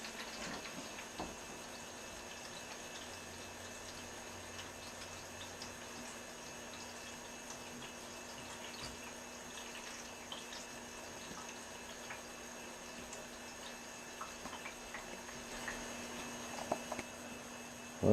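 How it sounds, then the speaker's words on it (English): Homemade peach wine siphoning through a tube into a glass bottle resting on a non-skid rubber pad, giving a faint, steady, close trickle of liquid over a low constant hum, with no talking. "See this bottle filling up."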